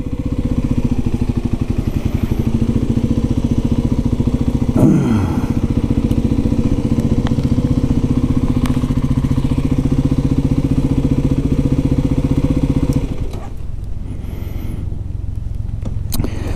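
A Kawasaki KLX300sm or Suzuki RMX450 motorcycle on a test ride runs steadily and loud throughout, its engine drone holding a constant pitch with a brief thump near five seconds, then easing slightly lower near the end.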